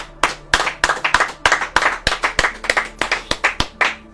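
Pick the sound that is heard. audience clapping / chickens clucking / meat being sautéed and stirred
audience clapping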